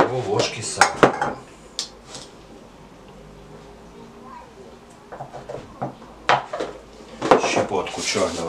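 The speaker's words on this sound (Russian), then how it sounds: "Размешиваем все до однородной массы." Pizza dough ingredients are stirred in a bowl with a spoon in a home kitchen, giving irregular clinks and scrapes of metal against the bowl in short bursts, with quieter stretches and faint talk in between.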